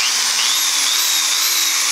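A power drill runs steadily off an 11.1V 50Ah battery box, a continuous high motor whine holding pitch with a slight rise midway, loud and close with no talk over it.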